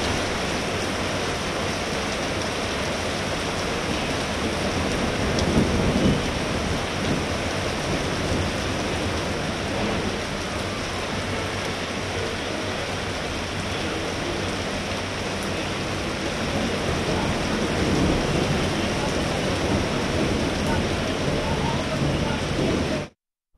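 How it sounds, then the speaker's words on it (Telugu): Steady rain pours down across Hyderabad, a dense, even hiss filling every moment at close range, holding constant throughout before cutting off abruptly at the end. "ఈదురుగాలులు, ఉరుములు, మెరుపులతో కూడిన వర్షం కురిసింది."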